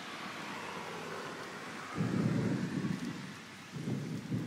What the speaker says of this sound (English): It was starting to rain.